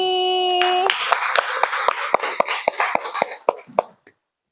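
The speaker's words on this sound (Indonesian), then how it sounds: "beri tepuk tangan untuk Kak Regi." Classroom applause during a student teaching session, scattered hand claps rising after a brief electronic tone, individual claps audible as sharp separate hits that thin out and stop within a few seconds.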